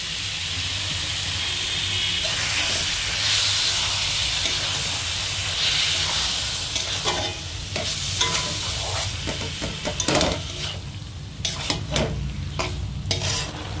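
Spinach paste hitting chicken frying in oil in a pan, a loud burst of hissing steam that settles into bubbling sizzle with intermittent stirring scrapes, no talk.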